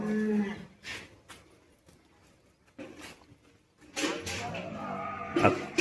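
Dairy cows, a mix of HF and Gir breeds, in a cattle shed give low moos and shuffling sounds at close to middle distance, with someone talking over them.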